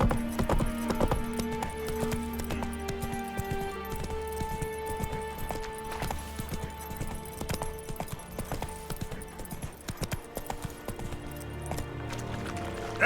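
Hooves of the horse in The Witcher 3: Wild Hunt gallop in a loud, steady clip-clop rhythm throughout, with game music and ambience playing underneath.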